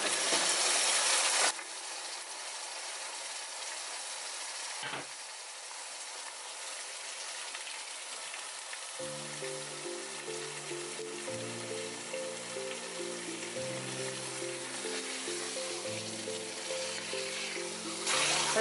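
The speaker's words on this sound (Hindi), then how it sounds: "अब हम इसमें डालेंगे चिकन।" Chicken pieces sizzle steadily in a hot pan for a bell pepper and spring onion curry, a constant close frying hiss with soft background music and no talking.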